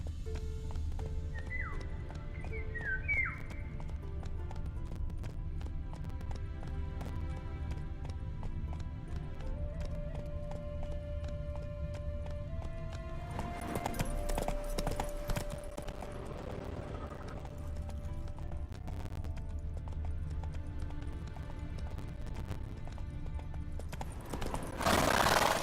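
Hoofbeats of Roach, a horse in the Witcher 3 video game, clop along steadily at a gallop over a continuous low game ambience, with a short whinny early on.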